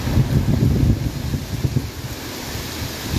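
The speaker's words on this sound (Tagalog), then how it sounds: "Alakas ng hangin." Strong wind buffets the microphone in loud, gusty low-frequency bursts during a Philippine weather broadcast, easing slightly midway before surging again, with no talk over it.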